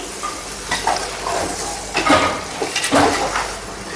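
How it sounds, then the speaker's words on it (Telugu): Chicken biryani masala pieces stirred in a pot in a village kitchen, with repeated scraping and clinking of a spoon against metal over a faint sizzling hiss, no talk. "ఇప్పుడైతే మంచిగా కలుపుకుందామండి."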